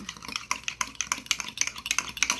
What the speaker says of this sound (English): we're going to go right in here, stir it up